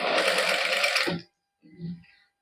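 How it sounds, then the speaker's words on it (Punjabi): A sewing machine stitches fabric for a printed suit in a fast whirring burst that stops after about a second, followed by a short quieter second burst. "ਹੁਣ ਇਸ ਤਰ੍ਹਾਂ ਉੱਪਰ ਵੱਲ ਨੂੰ ਸਲਾਈ ਲੈ ਜਾਾਂਗੇ ਕੱਪੜੇ ਨੂੰ ਮੋੜ ਕੇ ਅੰਦਰ ਨੂੰ"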